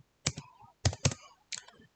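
Java code being typed on a computer keyboard: a few quick, close key clicks in small bursts with short pauses between them, quiet and without any talking.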